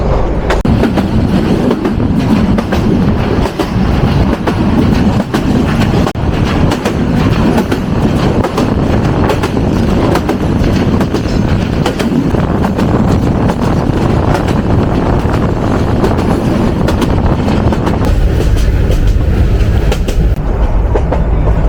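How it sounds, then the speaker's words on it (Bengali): A Mohua Commuter train hauled by a 2300 class locomotive passes Shambhuganj railway station on the Dhaka–Mymensingh line, a loud, steady rumble with rhythmic clickety-clack of wheels over rail joints and wind buffeting the microphone throughout. "Shambhuganj railway station two pass Mahua commutator"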